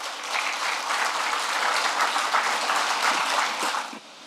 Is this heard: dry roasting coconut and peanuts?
no